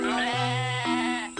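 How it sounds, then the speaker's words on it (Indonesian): A goat bleats once, a loud, wavering nasal call with a rising then falling pitch and a short second cry at the end, close and clear with no talk over it. "kambing,"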